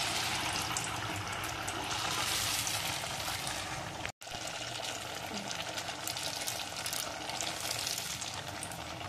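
Potato vada for a fasting-day batata vada, dipped in batter and sizzling as it deep-fries in hot oil. The frying is steady and dense throughout, with one brief dropout near the middle.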